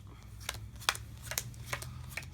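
A deck of cards is shuffled by hand for the board game Raptor, several quick riffles and snaps in an uneven rhythm, quiet and close, with no talk.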